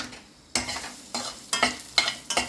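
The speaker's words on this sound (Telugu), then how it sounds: "ఎండుమిర్చి కరివేపాకు వేగింది సగం వేగిపోయింది" Dried red chillies and curry leaves fry in hot oil with urad dal and garlic, a close crackling sizzle broken by several bursts of stirring and scraping in the pan.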